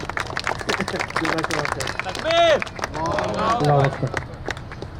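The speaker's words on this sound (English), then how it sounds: "So a hand of applause for Brother Asif, inshallah." At a cricket tournament awards ceremony, a crowd claps for Brother Asif, the applause mixed with cheering and loud voices, including a drawn-out shout partway through.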